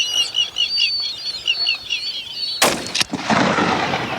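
A backup rifle shot fired at a 14 ft crocodile in Zimbabwe cracks loud and sharp, with a quick second burst and a rolling tail, after a stretch of steady wild birdsong.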